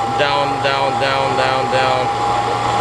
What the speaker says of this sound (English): This horrible noise most likely is coming from AC compressor